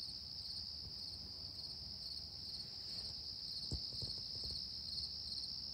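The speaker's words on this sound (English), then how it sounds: "Just listen to those crickets." Crickets chirp steadily around 4:45 in the morning, a dense continuous high trill filling the quiet outdoor air, with a few soft thumps partway through.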